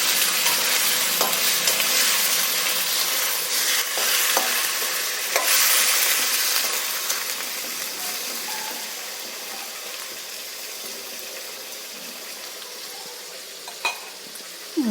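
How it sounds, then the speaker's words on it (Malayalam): Chicken curry being stirred in a frying pan, a steady sizzle and frying hiss with scraping stir strokes, loud at first and gradually easing, with no talking. "ഒന്ന് ഇളക്കി കൊടുക്കാം."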